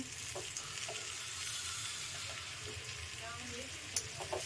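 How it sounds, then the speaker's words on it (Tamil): Banana pieces dry roasting in a pan without oil, a faint steady hiss with a few soft stirring taps near the end, a low voice murmuring underneath. "எண்ணெய் இல்லாமல் இதை வறுத்துக்கணும்"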